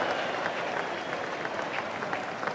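A 1975 Sydney Test crowd at an Australia vs England Ashes cricket match applauds a batsman's stroke, with a steady wash of scattered clapping and murmur from the stands.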